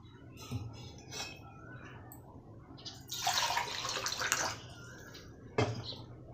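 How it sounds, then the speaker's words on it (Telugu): Milk and water poured into vermicelli for semiya payasam: a steady, close splashing pour of about a second and a half, framed by quieter kitchen handling sounds and a brief clatter. "పాలు నీళ్ళు రెండు కలుపుకున్నానండి తగినన్ని వేసుకోవాలి ఆ సేమియాకు సరిపడేమైనా"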